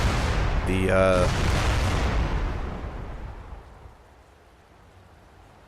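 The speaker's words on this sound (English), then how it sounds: "Those are ATM missiles hitting Burner." ATM missiles slam into a mech in the MechWarrior Living Legends game, a loud broadband burst of booming impacts that rumbles and fades away over several seconds, with a brief voice at the start.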